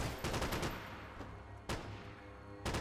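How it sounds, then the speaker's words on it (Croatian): Gunfire in the video game Max Payne 3, a dense burst of rapid shots followed by a single loud report and another volley, no talk. "aj Max pripucaj"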